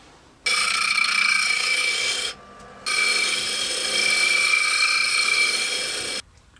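Hand sanding rounds over wood edges, rasping in two long, steady strokes of scratchy friction, separated by a brief pause, close and loud.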